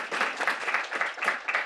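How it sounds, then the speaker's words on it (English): A room full of people claps in brief, moderately distant applause, a dense patter of hands rising and falling in quick waves. "Guys, give yourselves a round of applause."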